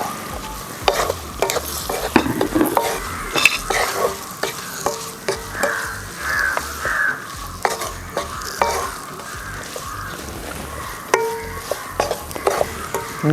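Grapes fry for a pickle in a hot pan, with a constant sizzle under repeated scraping stirs of a spoon against the pan at an uneven rhythm.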